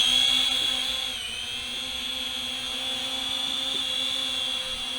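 A TOPRCBOXS S2 mini quadcopter drone flies outdoors, its small motors giving a steady high-pitched whine that stays loud and close, wavering slightly in pitch, with no talk.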